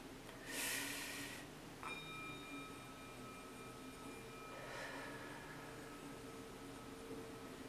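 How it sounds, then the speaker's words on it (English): Someone takes a deep breath during a tarot reading: a short, sharp airy inhale near the start, a quieter, softer exhale a few seconds later, and faint steady background hiss between them. "Let's all take a deep breath in."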